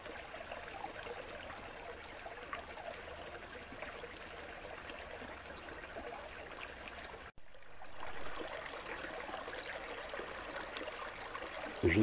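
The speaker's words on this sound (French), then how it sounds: "on a un mignon petit ruisseau qui serpente dans le bois." A small stream trickles and burbles through woodland, a steady, close water flow with a brief dropout midway, no voices.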